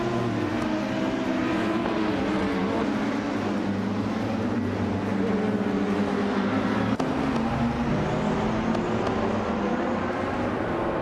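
A 2011 Zytec Z11SN LMP3 race car in a racing video game drones with a steady, loud engine note, the sound continuous and layered with other cars on track, no talking.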